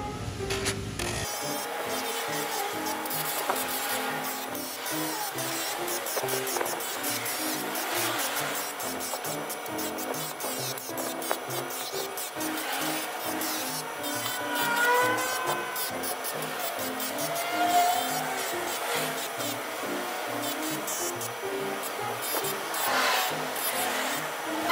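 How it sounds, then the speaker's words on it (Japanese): A rusty piano pedal being polished by hand, a continuous close scrubbing and rubbing rasp that holds steady throughout over a low background hum, with no talk. "とりあえずこっちを磨いてみまして"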